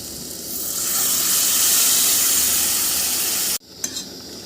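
Marinated mutton hits a pan of spiced masala with turmeric, chili, cumin and coriander, setting off a loud, steady sizzle and hiss that holds for several seconds, then cuts off abruptly into a few faint clatters.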